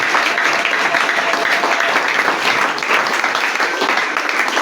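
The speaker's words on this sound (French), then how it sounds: "Est-ce qu'on peut acclamer pour Dieu?" A church congregation claps and cheers for God during a service, steady dense applause filling the whole stretch, loud and close with scattered voices mixed into the crowd noise.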